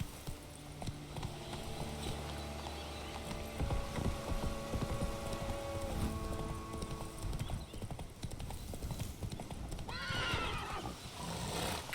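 Horse in The Witcher 3: Wild Hunt galloping with rhythmic hoof clip-clops, a whinny near the end, game music faintly beneath.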